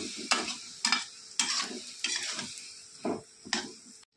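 Stirring vegetable chorchori in a pan: a spoon scrapes and clatters against the pan about seven times in an even rhythm, close and clear over a faint sizzle, with no talk.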